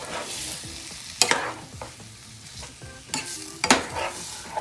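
Close stirring of spinach sauce in a sizzling pan, with a few sharp spoon scrapes and clacks against the metal over a steady frying hiss.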